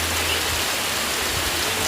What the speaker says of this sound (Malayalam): ഇപ്പോൾ മഴേൻ്റെ ഒച്ച കേൾക്കാനുണ്ട്